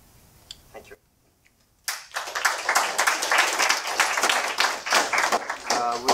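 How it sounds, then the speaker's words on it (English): Audience applause at a startup funding event breaks out after a brief lull, a dense burst of clapping that holds steady for several seconds, with faint talk just before it begins. "I'd like to applaud them"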